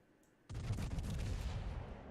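A British battleship's main guns fire in World of Warships, one sudden heavy boom that swells into a long, loud rumbling roar and keeps going for over a second and a half, with no voices.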